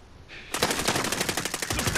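Gunfire in the video game Call of Duty Rebirth: after a brief quiet lead-in, a loud, close, rapid automatic burst rattles on steadily to the end.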